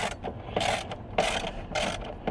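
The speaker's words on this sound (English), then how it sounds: "So I'm gonna hit it with the ratchet." Ratchet clicking in quick bursts while loosening small 7mm bolts on car interior trim pieces, three loud stretches of rapid pawl clatter separated by brief pauses, close up with no talking.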